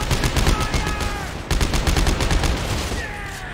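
Rapid automatic gunfire in the sci-fi horror game Dead Space 3, a loud dense burst of repeated shots in two quick volleys, no talk over it.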